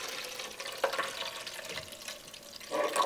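Distilled white vinegar pours into the plastic reservoir of a Keurig coffee maker, a steady close liquid splash and trickle running about three seconds, swelling louder near the end, with no one talking.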